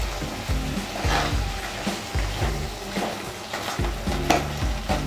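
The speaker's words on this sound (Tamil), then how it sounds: "நல்லா கலந்து விட்டுருங்க." Chettinad crab masala stirred in a pan of separating oil, repeated scraping spoon strokes in an uneven rhythm over a steady frying sizzle, close and moderately loud without talk.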